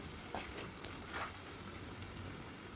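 A garlic and spice paste for garlic pickle fries in a pan with a faint, steady hiss and soft sizzle, heard quietly and alone.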